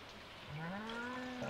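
Cows mooing in a barn in the Stardew Valley farming game, one drawn-out low moo that rises and holds over soft rain-like background noise, with no talking.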